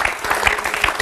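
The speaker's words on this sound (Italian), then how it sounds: "Magari un applauso ogni tanto lanciatelo." Brief burst of studio audience applause on an Italian TV cooking show set, a second of brisk clapping with a few louder hits, close and lively.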